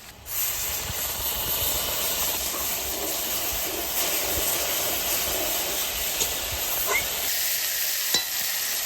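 Onions and whole spices (dried red chillies, bay leaf, cumin) frying in oil in a pan for a chicken curry, giving a continuous loud hissing sizzle with occasional faint stirring clicks, close up and without speech.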